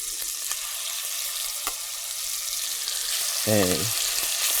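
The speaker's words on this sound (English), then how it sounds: "you hear when I put it in there, I put it skin side down first." Steady loud sizzling and crackling of chicken searing skin side down in a hot pot for coq au vin, with a brief low clunk near the end.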